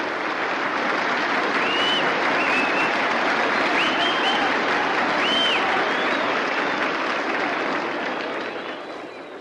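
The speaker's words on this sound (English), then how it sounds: "listen to that round of applause for him" Sustained crowd applause with cheering rings out at Wrigley Field for Detroit Tigers pitcher Dizzy Trout during Game 4 of the 1945 World Series against the Cubs, a dense roar of clapping that holds steady, then eases off near the end.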